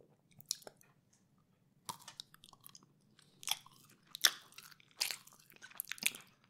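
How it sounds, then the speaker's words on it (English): Close, wet chewing of dark chocolate, with sticky mouth clicks and crunchy bites coming in scattered bursts between quiet gaps, heard up close with no talking. "There are those mouth sounds you wanted."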